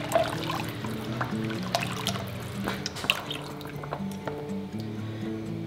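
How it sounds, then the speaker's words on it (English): Hot beef broth is poured into canning jars filled with meat, a faint trickling and dripping of liquid with small clinks against glass, steady and close. "take our hot, what should be beef broth, and fill up our jars to a 1-inch headspace"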